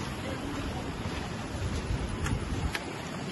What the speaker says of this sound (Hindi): थोड़ा थोड़ा सा पानी दिखना और बहुत बड़ा झरना है ये देखो